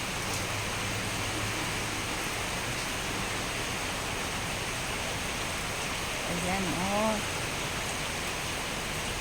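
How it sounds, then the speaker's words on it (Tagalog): Steady, dense typhoon rain hiss fills the whole stretch without a break, with a short spoken exclamation near the end. "malakas na naman ang ulan oh"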